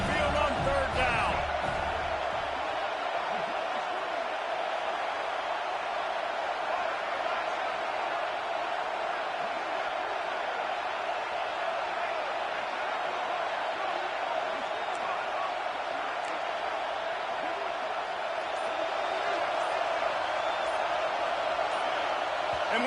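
Football stadium crowd roaring on third down at an Alabama Crimson Tide home game, a steady, dense wall of loud crowd noise that holds without pause throughout.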